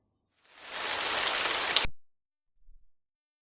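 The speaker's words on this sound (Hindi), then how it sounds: "लाहौर में बारिश ने जल थल एक कर दिया।" Rain falls in Lahore as a dense, steady hiss of drops on surfaces, swelling in and then cutting off abruptly after about a second and a half, with no voices over it.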